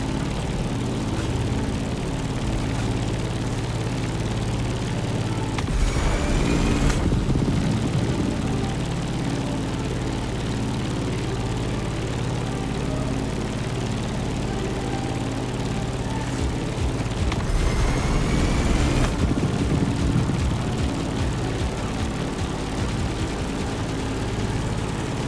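Grumman Bearcat F8F vintage propeller fighter in the racing game The Crew Motorfest, its piston engine droning loud and constant with a steady low hum, swelling twice into brief rushing whooshes as it passes, no voices.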